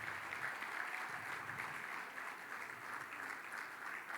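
Congregation at a church workers' congress applauds, steady dense clapping from a crowd in a hall, fairly distant and continuous throughout.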